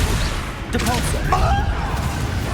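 Depulso force spell blasting off in Hogwarts Legacy, a sharp burst with a whooshing impact amid game effects and ambient noise, loud and close.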